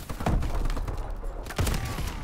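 Turret gunfire in the video game Call of Duty: Advanced Warfare, with a couple of loud, heavy bursts of shots and thumps close by and no talk over them.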